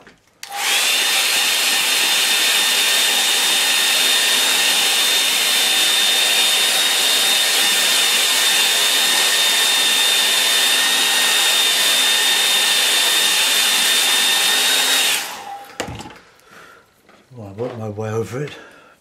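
A hair dryer blows on a painting of an easy snow scene, a loud, steady whirring roar with a high whine that runs for about fifteen seconds before switching off, after which a person speaks.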